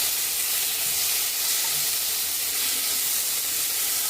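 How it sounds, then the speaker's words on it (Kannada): Chopped tomato and curry leaves frying in a pan, a loud, continuous, close-up hiss and sizzle with steady crackling that holds unchanged throughout, with no voices. "ಟೊಮೆಟೊ ಮೆತ್ತಗಾಗೋವರೆಗೂ ಸ್ವಲ್ಪ ಇದನ್ನು ಹುರ್ಕೊಳ್ಳೋಣ"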